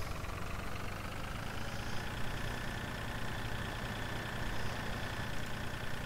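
A tractor engine drives steadily in Farming Simulator, a constant, fairly loud mid-to-low rumbling drone with no pauses and no voices.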